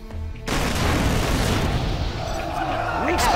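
Bombs explode in the real-time strategy game Command and Conquer: Rise of the Reds: a loud, dense rumbling blast bursts in after a brief lead-in and sustains as roiling booms and crackles, with faint synthetic game tones near the end.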